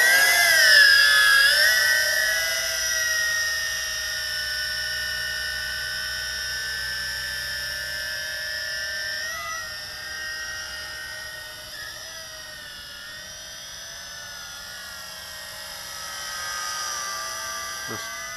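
Yizhan Tarantula X6 quadcopter flying outdoors, its rotors giving a steady high-pitched whine that shifts in pitch as it manoeuvres, loud and close throughout with no talking.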